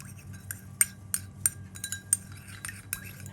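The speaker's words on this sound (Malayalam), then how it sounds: "നന്നായിട്ടൊന്ന് ഇളക്കി യോജിപ്പിച്ചെടുക്കാം." A spoon stirs a honey mixture in a small bowl, making a run of quick metallic clinks and taps against the sides in an uneven rhythm, close and fairly quiet.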